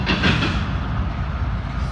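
BNSF H3 intermodal freight train rolling past at close range, a loud, steady rumble with rhythmic clickety-clack of container cars and wheels on the rails.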